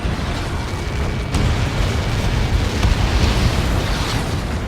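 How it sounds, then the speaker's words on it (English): A massive projectile impact in the video game Ace Combat 7 unleashes a loud, sustained explosive roar, a dense rumbling blast that rolls on without break for several seconds and swells slightly midway, with no speech. "How many got caught in that explosion?"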